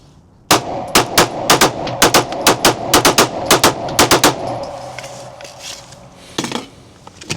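A Glock 45 pistol fitted with a Gen 5 Radian Ramjet fires a full magazine in rapid succession, about twenty loud sharp shots in a steady quick rhythm, followed by quieter metallic handling noise and one more burst near the end.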